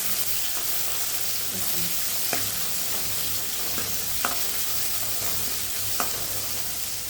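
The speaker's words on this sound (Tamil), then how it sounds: "வெங்காயம் வதங்கட்டும்." Steady sizzling of onions sautéing in a pan, with occasional stirring clinks, close and continuous throughout.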